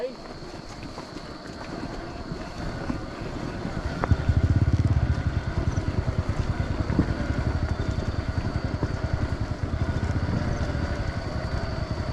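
An enduro motorcycle coasts downhill in gear on a rural trail in Nan province, Thailand, giving a low, steady engine drone with a pulsing rumble, wind noise and voices now and then.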